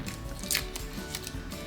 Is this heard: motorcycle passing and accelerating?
no